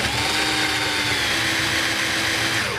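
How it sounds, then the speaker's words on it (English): A cordless Black & Decker drill whines steadily and loudly up close while boring a pocket hole through a Kreg jig into wood, with no talking. "and then you're just going to drill"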